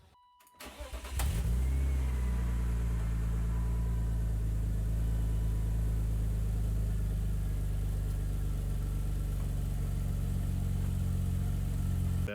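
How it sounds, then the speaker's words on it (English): A BMW E36 engine turns over and settles into a loud, steady idle rumble while running in gear, with a constant low drone that holds for about ten seconds after the start. "So I'm gonna turn the car on, kind of put it in gear, and then just come back here and listen."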